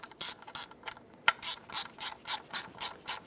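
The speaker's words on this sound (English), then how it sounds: "Now put these bolts back in" Bolts being threaded by hand into the plastic intake manifold of a 2008-2020 Dodge Grand Caravan 3.6L V6, a series of about nine close, short scratchy ratcheting bursts in a steady rhythm with one sharp click between them.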